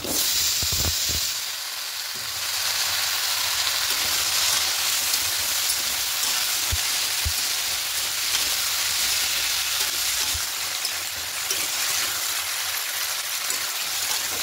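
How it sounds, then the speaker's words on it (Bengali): Chopped vegetables fry in a pan after browned onions for a spinach curry with fish head, a steady moderate sizzling hiss that runs evenly throughout with a few soft knocks. "এবার সবজিগুলো একটু হালকা লাল করে ভেজে নেব।"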